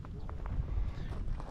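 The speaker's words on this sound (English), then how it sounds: "It's very windy here today" Steady low rumbling wind buffets the microphone outdoors, with a few faint thuds scattered through the gusts.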